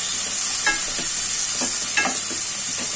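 Hilsa fish head with garlic paste and sliced green chilies is stirred in a hot pan, a few soft scraping strokes over a steady close sizzle of frying oil.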